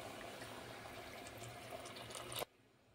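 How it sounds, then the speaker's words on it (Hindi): Hot water poured into a pot for cumin rice (jeera rice) with coriander and mint leaves, a steady continuous rush of liquid for over two seconds that cuts off abruptly, no talk. "3 कप ज़ीरा राइस के लिए 6 कप गर्मा गर्म पानी ऐड कर देंगे।"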